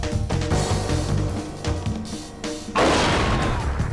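A grenade explodes in the video game XIII, a sudden loud blast that breaks through the busy game music and sound effects near the end and then trails off into rumbling debris.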